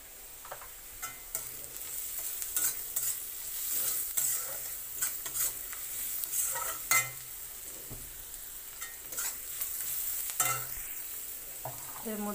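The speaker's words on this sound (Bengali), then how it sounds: "পেঁয়াজটা ভাজা ভাজা হয়ে গেছে।" Onions frying in a pan with salt and turmeric, with a steady close sizzle and repeated spoon stirring and scraping throughout, no talk.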